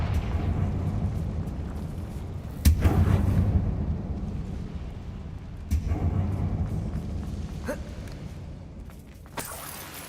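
Confringo explosive spell blasts in the video game Hogwarts Legacy, three sharp booming impacts with rumbling tails spaced a few seconds apart over a low continuous game ambience.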